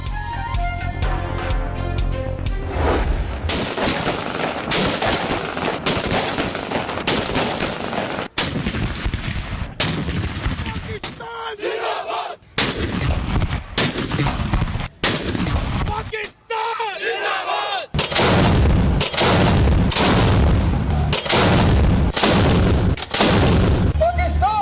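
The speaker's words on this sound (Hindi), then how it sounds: "इस्लामाबाद में 31 और सूबाई दारुल हुकूमतों में 21-21 तोपों की सलामी।" A ceremonial artillery cannon salute for Pakistan Day, with 31 guns in Islamabad and 21 in provincial capitals, booming in a long series of loud, heavy shots with brief gaps between them.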